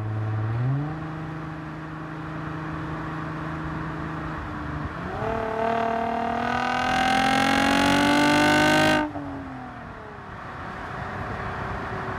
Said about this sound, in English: let's start downshifting gear by gear all the way to second.